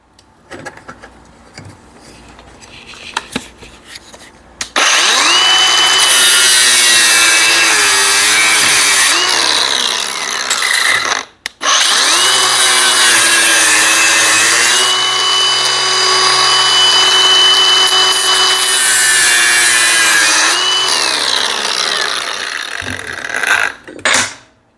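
Steel motor mount for a new locomotive being cut along a scribe line with a power tool, held on a welding fixture table; a loud steady cutting whine runs almost continuously, broken briefly once, with no talk.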